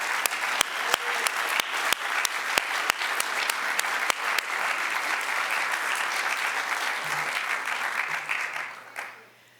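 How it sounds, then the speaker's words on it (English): A crowd at a Mississippi-themed program in Washington breaks into sustained applause, dense and even for most of the stretch, with a few sharp individual claps standing out early before the clapping tapers off abruptly at the end. "I hope you'll join me in giving a round of applause to Dietz"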